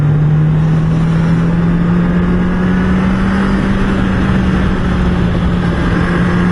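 Steady engine drone of a motorcycle being ridden, a Honda CB650R or Yamaha MT09 naked bike, with a low hum that climbs gently in pitch and a constant rush of wind, loud and continuous with no speech.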